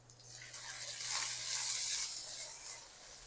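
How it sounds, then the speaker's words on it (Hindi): Spices with salt, white pepper and chaat masala roasting in a pan give a faint, soft sizzle that rises gently and then eases, with no talk. "और इन तमाम चीज़ों को अच्छी तरह भून लेंगे।"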